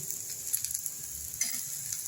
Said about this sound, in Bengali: আলু একটু শক্ত সবজি ওই জন্য আলুটা আগে ভেজে নিচ্ছি